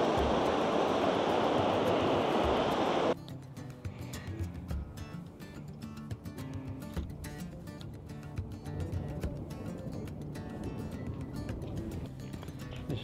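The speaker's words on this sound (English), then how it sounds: "These little waterfalls coming out of the Grand Prismatic." Small waterfalls flow out of Grand Prismatic Spring in Yellowstone, a loud, close, steady rush of water for about three seconds before an abrupt cut to a quieter outdoor ambience.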